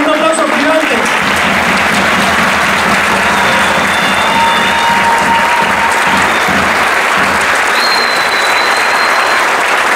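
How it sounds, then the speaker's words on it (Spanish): Loud, sustained audience applause at a murga show, a dense wall of clapping lasting the whole stretch with crowd noise mixed in, heard close up. "Laura, la otra Laura y Sol, un aplauso gigante."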